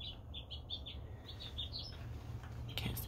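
A small bird with a reddish orange head chirps outdoors near a house door, giving a series of short, bright high tweets in quick bursts over a low steady background rumble.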